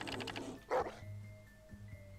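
A dog in the video game Death Coming gives one short, fairly faint bark amid quiet game background sounds.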